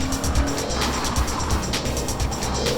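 An Audi RS4 with a V8 and four-wheel drive runs hard, its engine roaring steadily and loud throughout with a strong low growl and busy high-frequency texture, close and continuous.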